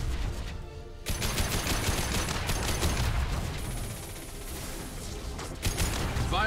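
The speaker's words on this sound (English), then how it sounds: "Firing a high impact shot." Gunfire in the video game Mass Effect 2 (Legendary Edition), a dense burst of rapid shots and mechanical clatter that carries on loudly through the few seconds with no talking.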